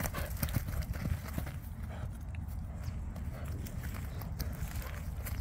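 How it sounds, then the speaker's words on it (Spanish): A gentle criollo horse walking on ground, its hooves giving a steady, soft clip-clop rhythm, faint and continuous. "Bien anda este caballo."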